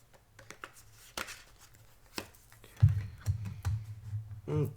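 Grand Etteilla tarot cards being handled and shuffled close by: scattered soft flicks and taps with a louder rustling burst near the end, over a low steady hum.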